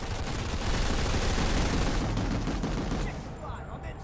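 Dense, loud automatic gunfire from the sci-fi shooter Tabula Rasa roars almost without a break, a rapid fusillade that thins out near the end while a voice speaks faintly underneath.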